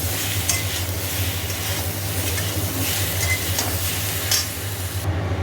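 Ginger paste, tomato and salt fry in a pan with a steady, close sizzling hiss, over a low constant hum, with brief stirring scrapes and no talking.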